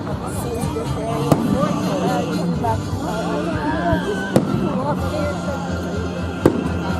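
Fourth of July fireworks at Robertson Park in Livermore, California, with three sharp booming bursts spaced a few seconds apart over a constant murmur of an outdoor crowd talking.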